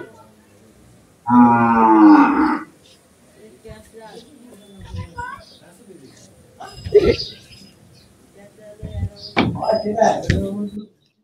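A native cow with its calf on a farm gives a loud, close moo near the start, followed by quieter shuffling and other farm noises, with people talking and calling out later.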